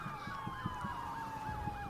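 A police car siren in the GTA V video game wails steadily and close, its pitch swooping up and down in a repeating cycle over a low engine rumble, with no talk.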